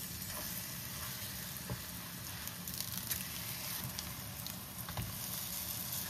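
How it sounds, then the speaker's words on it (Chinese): Minnan ginger rice cakes pan-fry on low heat, giving a steady, close, soft sizzle with faint crackles and pops throughout and no talking. "然後開火哈，保持小火煎。"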